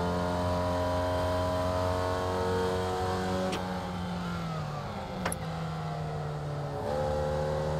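A Formula Vee race car engine in the iRacing simulator drones steadily at high revs, with three clear upshifts dropping the pitch. It sounds close and continuous, with no talk.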